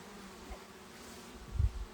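Honey bees buzz around an open hive frame of drawn comb during queen rearing, a soft steady drone close by, with a brief low thump near the end.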